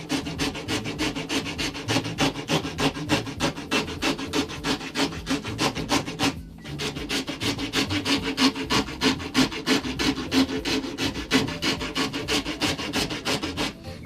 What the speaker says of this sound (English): I'm using this rat tail rasp here.